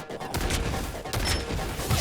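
Blade fires a gun in the video game Marvel Rivals, several quick, punchy shots with a few in rapid succession over game ambience.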